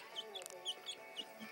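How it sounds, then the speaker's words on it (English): A pet chicken gives a string of soft, rapid clucks and chirps, close but quiet, at an irregular pace. "George, my pet chicken."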